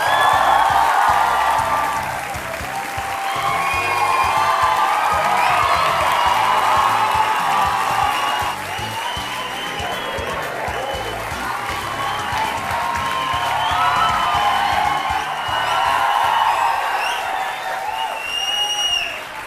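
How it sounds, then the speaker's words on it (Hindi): Loud crowd applause with cheers and whoops rolling on continuously, a large TV studio audience on the show Aap Ki Adalat clapping and shouting together. "और ये तालियां बजते रहें।"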